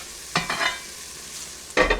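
Brussels sprouts being stirred in a hot frying pan, with a couple of scraping, clattering stir strokes over a steady soft sizzle, close and moderately loud with no talking.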